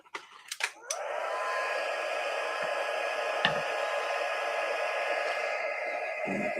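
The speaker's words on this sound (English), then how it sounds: "we're going to heat emboss this now" A heat gun blows continuously at close range while heat embossing a stamped card, a steady loud whooshing roar that starts after a few soft handling taps and holds evenly to the end.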